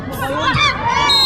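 Spectators at a Shakey's V-League women's volleyball match between FEU and PUP erupt in loud, high-pitched shouting and screams as a rally stays alive, a dense crowd roar that swells and holds.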